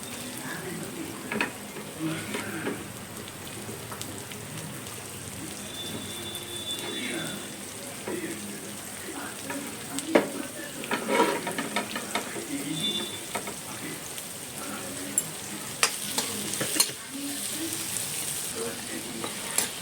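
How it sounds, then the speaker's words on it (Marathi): Finely chopped onion fries in a pan for chicken masala, a steady close sizzle with scattered scraping and tapping from stirring, and faint talk in the background. "कांदा लाल करून घ्यायचा."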